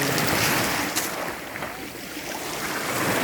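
Sea waves at a Croatian beach, a broad rushing wash of surf with wind buffeting the microphone, loud and continuous with a swell that eases and rises again, and no voices.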